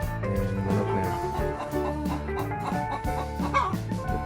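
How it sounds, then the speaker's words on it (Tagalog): Chickens cluck and chatter continuously, several birds overlapping close by in a busy, rhythmic stream of clucks. "Ayan, manok na yun."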